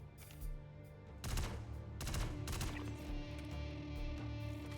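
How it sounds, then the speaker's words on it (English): Bursts of mounted-gun fire in the space sim game Star Citizen, several loud rapid volleys crackling over a steady low game hum, no talk. "I thought you were shooting at Brevity for a second"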